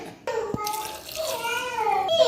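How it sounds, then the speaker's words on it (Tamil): Two glasses of water poured into a pressure cooker holding onion, tomato and eggplant, a steady close splashing pour with a rising pitch as the pot fills, lasting about two seconds. "இப்போ இதில் நான் 2 கிளாஸ் தண்ணி வந்து ஊற்றிக்கிறேன்."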